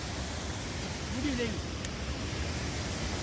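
Water pours over a village dam overflowing after unseasonal rain, a dense, constant roar of rushing water heard from nearby with no pauses, steady and fairly loud for the whole moment.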